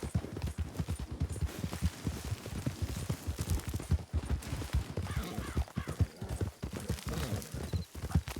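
Horse hooves clip-clop steadily in the Red Dead video game, a dense rhythmic run of hoofbeats at moderate volume with no talking.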